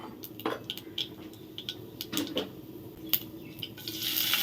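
Mustard seeds thrown into hot oil for a vegetable curry crackle and pop in scattered faint bursts, mixed with light clinks of a pan and utensils, building to a soft sizzle at the end.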